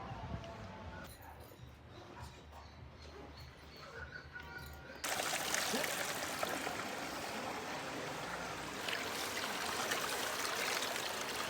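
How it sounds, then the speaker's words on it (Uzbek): Spring water welling up out of the ground at a group of springs, a steady trickling, bubbling stream that turns louder and fuller partway through, with faint birdsong over it. "Kuzda shu o'rinda bu joylardan suvlar o'zi buloq bo'lib qaynab chiqadi."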